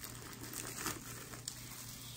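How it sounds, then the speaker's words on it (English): Plastic wrap crinkles and crackles as it is pulled off a new Disney Mickey Mouse Jack-O'-Lantern Scentsy warmer, a soft, steady rustling close by with a brief sharper snap near the end. "let's get this plastic off of here"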